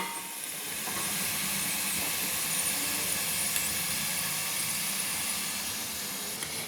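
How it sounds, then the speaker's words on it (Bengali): Potatoes frying under a lid in a covered pan, giving a steady, even hiss and sizzle that holds at a constant level throughout, with no talking over it. "আমি ঠিক 3 মিনিট থেকে 4 মিনিট আলুটা আমি ভাজার জন্য একটু চাপা দিয়ে দিলাম।"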